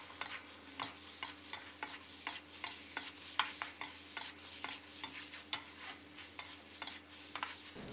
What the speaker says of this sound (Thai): ใส่ลงไปเลยครับแล้วก็ผัดคลุกเคล้าให้เข้ากันเลยครับ